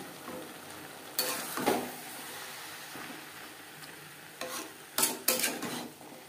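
Vegetables for chicken momo filling stir-fried on high flame, a low sizzle broken by several bursts of spatula scraping and tossing, close and without speech.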